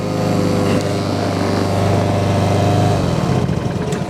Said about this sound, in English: It'll rev up and then it'll idle down as it warms up.